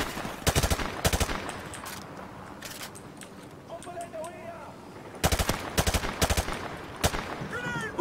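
Automatic gunfire from a video game, Call of Duty: Modern Warfare Remastered, in sharp rapid bursts that come and go over eight seconds, with quieter game ambience between the volleys.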